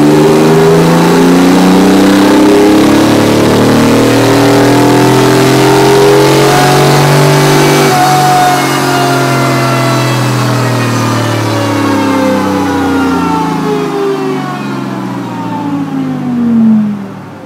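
A Whipple-supercharged Detroit 6V53 diesel engine in a 1986 Chevrolet one-ton 4x4 revving hard and loud on a dyno, holding a deep, steady roar whose pitch slowly shifts before easing off at the end.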